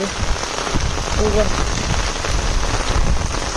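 Heavy downpour pouring steadily onto surfaces outdoors, a dense continuous roar with no breaks, close and loud.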